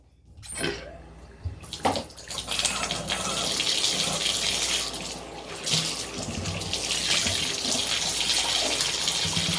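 Warm water runs from a tap onto hair in a steady, close gush that starts after a couple of brief splashes and continues without a break.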